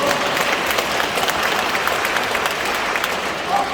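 Steady audience clapping fills a Catholic lay group's training session, a dense, even applause lasting the whole stretch without clear talk.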